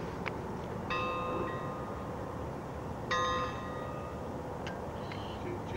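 A bell rings twice, a few seconds apart, each time a clear metallic strike with a ringing tail, over steady outdoor rumble and a few faint clanks.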